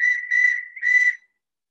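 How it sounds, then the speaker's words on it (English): A traditional clay owl whistle sounds three breathy, hooting notes in quick succession, the second gliding lower before the third returns; clear and close, with no voices. "she's going to blow a traditional owl. It's a whistle owl."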